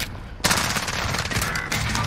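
Rapid automatic gunfire in Call of Duty Warzone, a dense loud burst of shots after a brief quieter start, continuing steadily with a short pause near the end.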